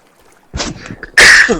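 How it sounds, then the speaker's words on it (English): Two harsh, close coughs, a shorter one followed by a louder, longer burst a moment later. "Hope I didn't cough in your ears too bad"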